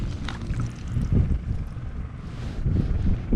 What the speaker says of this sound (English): This wind is just too high for me to like even get excited if a flag goes off, because I just know it's the wind.